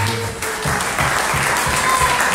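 A church congregation in Ottawa applauding, dense steady clapping from many hands that swells slightly louder toward the end.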